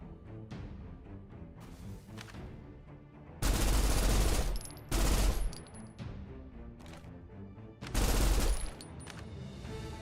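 Gunfire in a tower defense minigame from the video game Snowbreak, with bursts of rapid shooting over a steady game soundscape; three heavy, loud volleys stand out, and there is no talking.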